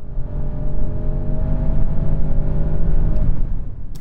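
An Audi S8 pulling hard on an unrestricted stretch of German autobahn, its engine a loud, steady, close drone with a layered harmonic hum that continues without a break for about four seconds.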